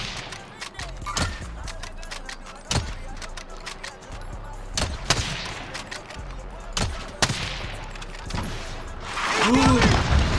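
Call of Duty Modern Warfare (2019) gameplay carries sharp, loud gunshots from a sniper rifle and other weapons. The single cracks come at irregular intervals over in-game noise, and a player talks between the shots.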